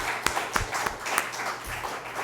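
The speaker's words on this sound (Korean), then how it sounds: "여러분 박수 한번 하세요" A church congregation claps together at a modest level, with a few sharp, distinct claps standing out over a softer ongoing patter in a reverberant hall.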